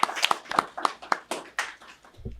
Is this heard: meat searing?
no